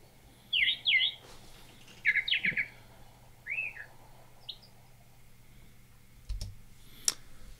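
Brown thrasher song in a cleaned-up outdoor recording: several short bursts of bright, varied chirps and whistled phrases, repeated in quick groups and separated by pauses, with a faint click near the end.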